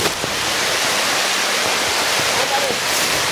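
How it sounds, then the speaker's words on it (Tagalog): Heavy rain pours down in a dense, even hiss that fills the whole moment without a break, close and loud, while a voice is faintly present underneath. "Berang lakas ng ulan."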